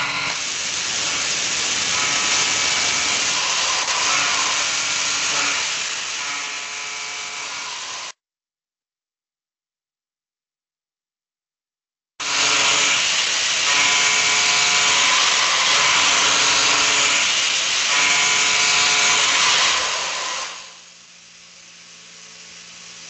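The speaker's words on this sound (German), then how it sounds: "wie das Ganze aussieht, wenn wir jetzt unseren Hochvorschubfräser einsetzen mit drei Schneiden" A three-flute high-feed milling cutter machines metal with a loud, steady broadband hiss and whir, breaking off for a few seconds of silence before a second equally loud pass that fades near the end.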